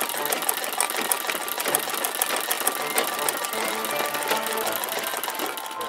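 An embroidery sewing machine stitches orange thread, giving a fast, steady mechanical rattle and whir of the needle that runs without pause, moderately close.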